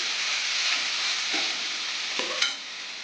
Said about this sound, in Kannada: ಒಂದು ಬಟ್ಲು ತೆಂಗಿನಕಾಯಿ ಹಾಕ್ತಾಯಿದ್ದೀನಿ ಹಾಕಿ ಚೆನ್ನಾಗಿ ಫ್ರೈ ಮಾಡ್ತಾಯಿದ್ದೀನಿ